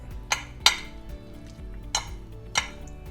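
Ramen being mixed with seasoning in a pan: four distinct metallic clinks of a utensil against the pan over a faint steady sizzle, close and fairly quiet.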